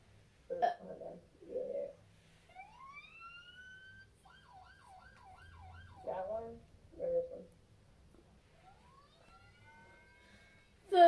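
Rising and falling electronic siren wails from the video game Minecraft, sweeping up and warbling in a few separate bursts, broken up by short voice-like blips and quiet gaps.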